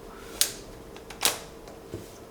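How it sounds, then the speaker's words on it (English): Lens being forced off a Nikon Nikkormat FT camera body, producing two sharp metallic clicks and a smaller snap, close and distinct against a quiet background. "I'm going to have to wrench this lens off of here"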